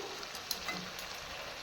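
Fried potatoes dropping into a vegetarian drumstick curry cooking over a low gas flame, giving a steady soft sizzle with a small clatter as they land, alone and fairly quiet.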